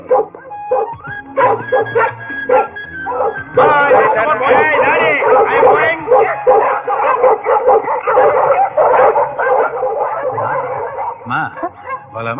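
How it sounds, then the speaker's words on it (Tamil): A newly acquired dog barks and yips while straining on its leash in a Tamil comedy film scene, the barks mixed in with steady talking from several people. "புது நாய் இழுக்குது யாருக்கு கட்டுப்பட மாட்டேங்குது"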